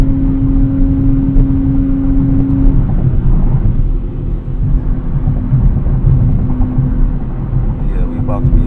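A 2024 Nissan Z Nismo engine drones steadily as the car pulls through the gears, with a tonal hum that holds and then shifts partway through, under constant road and cabin noise.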